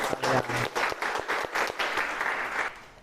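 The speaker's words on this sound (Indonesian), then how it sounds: "Oke, tepuk tangan untuk kalian." A classroom of students claps together in a short burst of applause, dense and even for about three seconds before tapering off.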